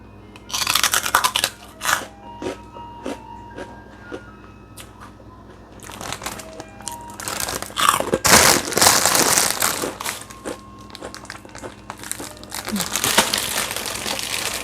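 A crunchy, very salty seasoned snack crackles and crinkles close by in bursts of chewing and packet rustling, loud and intermittent.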